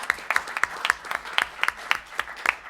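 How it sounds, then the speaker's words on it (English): A small seminar audience applauds its speakers with light, fairly rhythmic clapping, distinct individual claps repeating at a steady pace rather than a thick roar. "Please, one more time, give these folks a round of applause"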